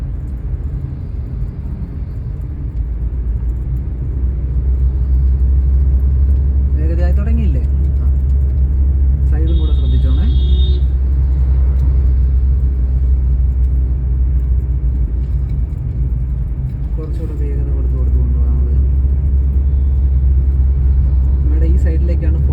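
A car engine hums at a steady low drone while driving during a driving lesson, with brief chirps and clicks over it and an instructor talking throughout.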